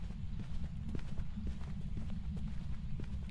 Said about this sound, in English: I could hear the footsteps and the flashlight isn't flickering